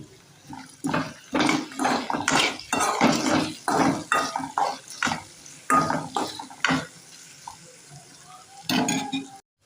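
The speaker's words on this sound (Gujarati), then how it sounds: "હવે ચમચાથી સારી રીતે મિક્સ કરીને ઘડીક તેલમાં સળવા દેવાનું છે" A spoon stirs morayo khichdi in hot oil, making rapid, close scraping strokes in quick bursts over a low sizzle, loud and near, with brief pauses between rounds of mixing.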